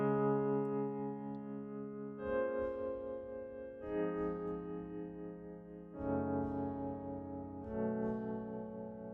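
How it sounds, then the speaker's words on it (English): Pianoteq 8 virtual piano with a tremolo effect added: a series of sustained chords, each swelling and pulsing in level, changing roughly every two seconds, played alone with no voices. "Then add some tremolo."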